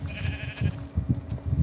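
Minecraft sheep bleat repeatedly in short, wavering blurts, several quick calls close together over faint game ambience, with a few light chime-like pops in between.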